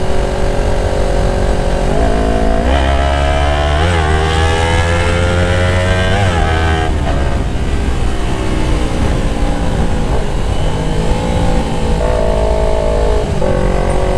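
Kawasaki Ninja 250FI fitted with a Prospeed Viper racing exhaust revs repeatedly, the engine note sweeping up and down through the RPM range in loud, continuous blips, close and alone with no talking.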